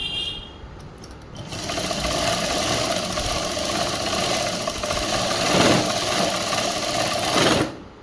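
A sewing machine stitches the edge seam of a government school uniform chudi top, running with a continuous close mechanical whirr and hum for several seconds before stopping abruptly.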